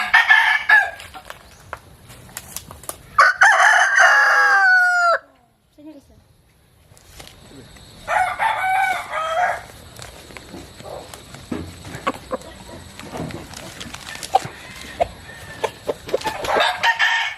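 A Talisayin fighting rooster crows loudly several times, with long harmonic calls rising and falling, between stretches of quieter barnyard noise and a brief near-silent pause.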